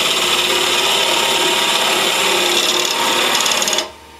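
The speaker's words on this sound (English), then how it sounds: "So we turn it on, we hit the bevel as we push in and begin to cut" Wood spins on a mini-lathe as a bevel tool is pushed in to cut, giving a loud, continuous rasping scrape that runs steadily and then stops abruptly near the end.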